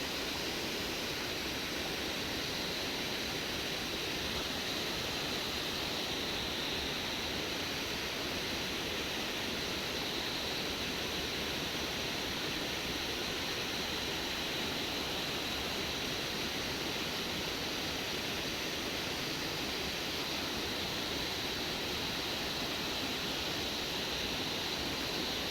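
A broad, unbroken roar of falling water from waterfalls in the Valley of Flowers near Ghangaria in the Himalayas, steady and full throughout with no voices.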